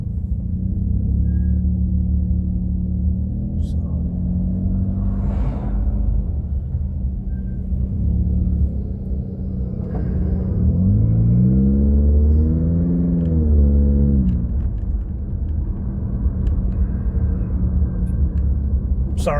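Late-night city traffic in Chicago gives a constant low rumble of engines and tires, with a louder vehicle passing close by partway through.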